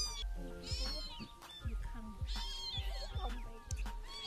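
Several motherless kittens rescued in a Cambodian village meow and cry repeatedly in high, overlapping calls, loud and near, with brief human voices mixed in.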